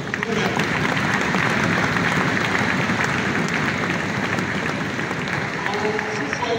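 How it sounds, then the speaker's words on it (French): Audience applause at a national human rights forum, dense and steady clapping filling the hall from start to finish with no pause, loud and close. "nous demandons encore que nous puissions applaudir nous-mêmes"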